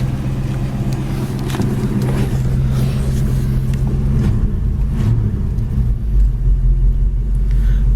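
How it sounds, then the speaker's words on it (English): A 1966 Ford coupe's engine idles nearby with a steady, low, continuous rumble that holds even throughout, with no revving and no voices. "Car idle's excellent."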